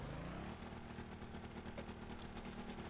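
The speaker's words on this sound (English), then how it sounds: "Start the engine." A ship's engine in Stormworks spins up from a low starting whine into a steady, droning mid-range hum with a faint rhythmic throb, heard alone and fairly quiet, with no talking.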